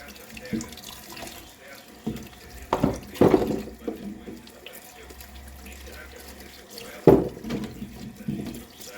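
Green papaya being washed by hand under a running kitchen tap to rinse off lime, with water splashing in short bursts over a steady low flow, close by and fairly quiet.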